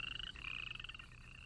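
A male tree frog and a female pond frog croak in a rapid, pulsing trill that runs steadily without a break, moderately loud and with no voices.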